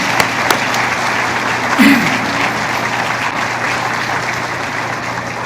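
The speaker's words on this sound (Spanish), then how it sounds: "Yo creo que merece un aplauso el Señor." Applause rises from a church congregation at a sermon, a steady wash of clapping that holds at an even level for several seconds, with no voices over it.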